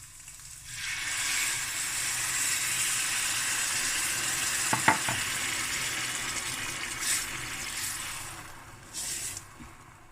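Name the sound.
water added to frying rice, sizzling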